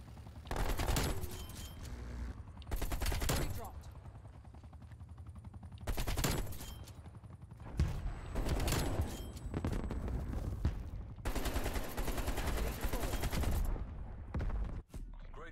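AK-47 gunfire in Call of Duty Cold War, loud rapid automatic bursts of varying length repeated across the stretch, with short gaps between volleys.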